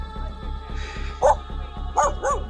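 A dog barks in a horror game, three short yelping barks spaced out over a steady low rhythmic drone and faint ambient noise.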